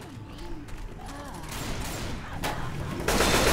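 Gunfire in the zombie co-op shooter Left 4 Dead 2, a dense run of rapid shots and bursts growing louder toward the end, with chaotic game noise and occasional voices underneath.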